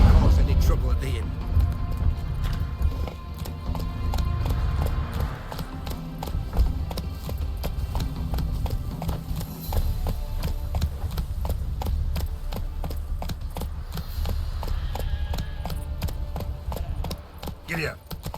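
A horse galloping in The Witcher 3, rapid rhythmic hoofbeats running continuously over music and ambient game sound, with a voice briefly present.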